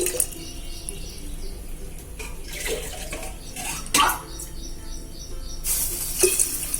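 Water splashes and gurgles as it is poured into a clay pot to make wheat kali, a steady close pour with a few louder splashes.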